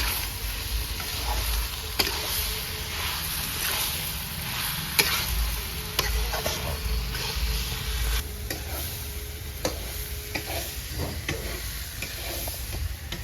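Papaya, potato and soybean chunks sauté with spices in a pan, giving a steady close sizzle broken by repeated scraping stirs and light clicks of a spoon against the pan for the whole stretch.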